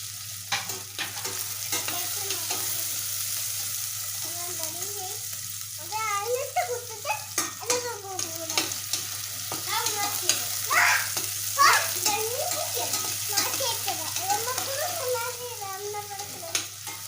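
Onions frying in oil in a pan, stirred with busy scraping and clattering strokes over a constant sizzle, close and fairly loud with a low hum behind.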